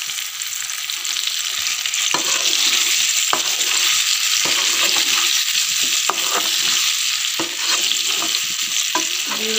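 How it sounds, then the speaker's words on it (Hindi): Boiled amla being stirred into a village-style achar pickle, a steady oily sizzle with scattered scraping clicks of the spoon against the pot. "अब हम इसको हिलाएंगे।"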